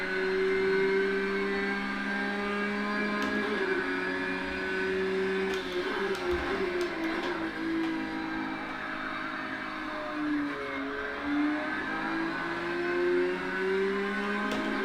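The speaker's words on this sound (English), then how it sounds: "So, Steffi, film a whole lap of me on Laguna Seca with the GT3 Racing Cup car" A GT3 Cup race car engine lapping Laguna Seca in a racing simulator, a continuous loud mid-pitched drone that rises and falls through gear changes and corners, heard alone.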